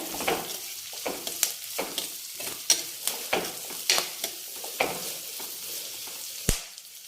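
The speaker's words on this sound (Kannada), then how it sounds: "ಈಗ ನಿಧಾನವಾಗಿ ಚೆನ್ನಾಗಿ ಫ್ರೈ ಮಾಡ್ಕೋಬೇಕಾಗುತ್ತೆ" Onions and curry leaves fry slowly in a pan, a quiet sizzle punctuated by a dozen or so sharp spatula scrapes and taps at irregular intervals, close and distinct with no voices.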